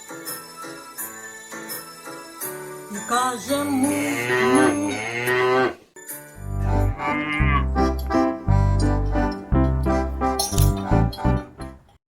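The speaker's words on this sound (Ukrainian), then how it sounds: "А це корова, а це корова, дає вона молоко і каже му" A cow moos long and loud over a tinkly children's song melody, with a second deep moo following after a brief pause.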